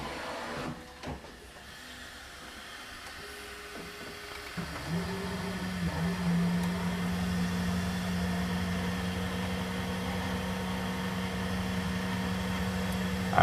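3D printer print head scraping and gouging into a Benchy print, a steady mechanical hum and whine that settles into a sustained droning tone after a brief rough scraping start, close and alone.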